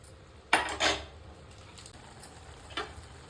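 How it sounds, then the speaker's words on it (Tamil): Maggi noodles with egg are stirred in a pan, giving a couple of close metallic scrapes and clinks early and one lighter clink later over a quiet kitchen background. "அப்படியே மேகையை அப்படியே கிளறி விடுங்க."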